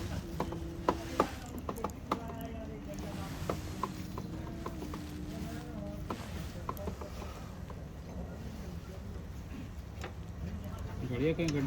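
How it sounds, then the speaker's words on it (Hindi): Bolts on a Bajaj Pulsar clutch cover being tightened with a ratchet, giving quick clicking pawl bursts and metallic ticks at close range amid soft background noise. "ये बोल्ट कसा गया, 2-3 और बोल्ट बचे हुए हैं, उसे भी कस लेते हैं।"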